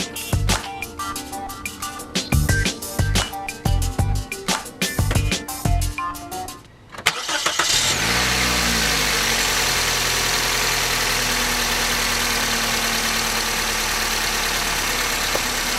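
A 2004 Toyota Corolla with a newly replaced starter cranks over in a rapid stuttering burst of several seconds, then catches and settles into a loud, steady idle close by.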